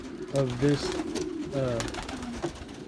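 Young pigeons in a loft give soft, low, repeated cooing phrases under a voice, with faint background rustle.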